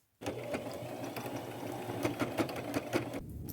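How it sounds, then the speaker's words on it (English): A sewing machine runs steadily, stitching rows of zigzag across a thrifted scarf, a close continuous motor whir with rapid needle clatter and slight speed swells before it stops. "sew a couple rows of zigzag stitching"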